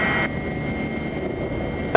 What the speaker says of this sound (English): Just me and my helicopter now.